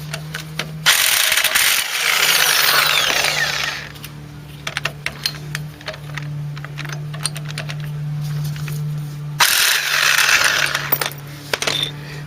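Impact gun on a Ford Cortina Mk3 brake assembly, loud rattling bursts of hammering that start and stop in a few long runs, with a steady hum underneath.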